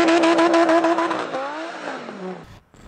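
A Lamborghini Huracan with an aftermarket exhaust revs loudly and sharply, its high screaming engine note rising and then falling away over a few seconds before a brief pop and crackle, heard close.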